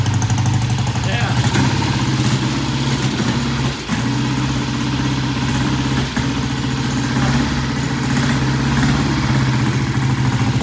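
A carbureted Triumph motorcycle idles near a shop with no throttle, a loud, even, low throb running throughout with a couple of brief dips in the beat.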